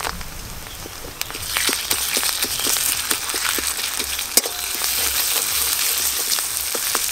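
Onion paste with ginger, cumin and green chili paste fries in a pan with a continuous crackling sizzle, broken by frequent sharp pops and spatters and a few scraping stirs.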